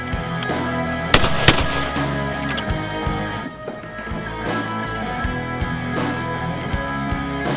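A 20 gauge shotgun fires a reloaded Winchester Super Target shell outdoors, a single sharp loud blast followed by echoing rumble and background noise, with no talking.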